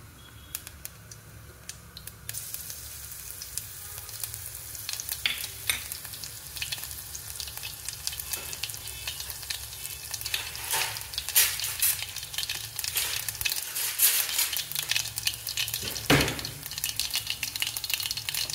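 Garlic fries in hot oil with cumin and mustard seeds for a brinjal curry: a continuous close sizzle that grows louder and more crackly over time, with sharp spatters and pops and no talking.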